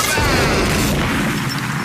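A cannon fired by a robotic Santa in an animated cartoon goes off as one loud, sustained booming crash that fills the sound and then rumbles away, with no talking.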